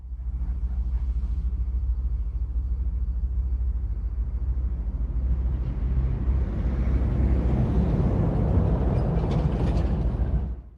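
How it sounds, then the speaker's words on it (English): London Underground train depot ambience in a tube simulator game: a steady low rumble and hum with a distant mechanical drone that grows fuller and louder partway through, then cuts off, with no talking. "You can tell it's a depot because it sounds like this."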